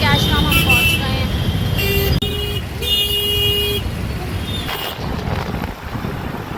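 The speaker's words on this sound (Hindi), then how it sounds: "इसी वजह से रोड पर भी बहुत ज़्यादा ट्रैफिक है गाइस" Heavy festival-day road traffic near Delhi's Chitli Qabar market in Daryaganj: engines rumble continuously while several car horns toot in short bursts and one longer blast, with people talking over the din.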